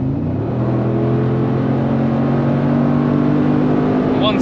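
A 2023 Mercedes-Benz G63 AMG with a 585 hp engine accelerating hard on the Autobahn, a loud, steady engine drone with rising tone and heavy road and wind rush, heard from inside the car.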